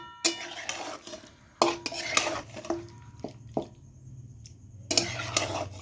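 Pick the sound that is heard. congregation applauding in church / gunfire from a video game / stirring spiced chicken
stirring spiced chicken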